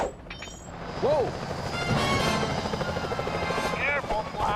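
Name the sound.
security helicopters flying in Sly Cooper video game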